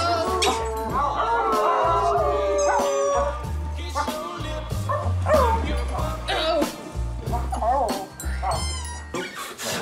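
Men imitate dogs during a pup play session, yapping, barking, whimpering and howling in overlapping bursts, several voices close by with a lively, chaotic rhythm throughout.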